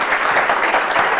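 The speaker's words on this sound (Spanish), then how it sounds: "Un fuerte aplauso para él." A short burst of steady, dense applause from an audience at a talk in Terrassa, close and fairly loud without pause.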